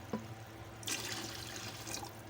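Water pours from a glass into a pot of rice for matar pulao, a steady splashing stream starting after a brief clink and continuing close and moderately loud without talk.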